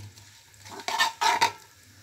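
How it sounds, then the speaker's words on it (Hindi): Dry fruit frying in a pan over a medium flame, with a soft sizzle and a couple of louder stirring scrapes and clinks near the middle of the short stretch. "इसको थोड़ा सा फ्राई कर लेंगे मीडियम बिल्कुल मीडियम आंच पे"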